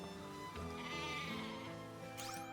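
A Woolum, a goat-like farm animal in the video game Harvestella, bleats in a steady, fairly loud call with harmonic tones and no speech over it.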